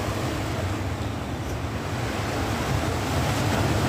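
Ocean waves washing onto a fishermen's beach at Sanur, a steady loud roar of surf with wind noise and no pauses.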